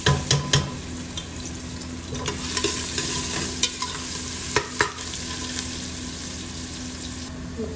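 Chunky garlic pieces fry in a little oil for green dal, a steady close sizzle with occasional sharp stirring clicks and scrapes of a utensil against the pan, no voices.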